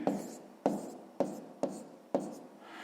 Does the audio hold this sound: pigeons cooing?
no